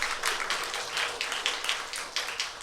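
A chapel audience claps together in a loose, rhythmic burst of hand claps, moderately close and even, with no talking over it.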